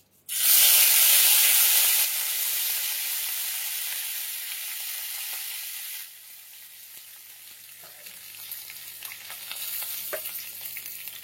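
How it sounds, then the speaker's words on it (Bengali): Curry leaves dropped into hot oil in a kadai, a sudden loud burst of spitting sizzle that gradually settles into a softer steady hiss with occasional crackles, close and without talk. "আমি এই তেলের মধ্যে কয়েকটা কারি পাতা ফোড়ন দিয়ে দিচ্ছি"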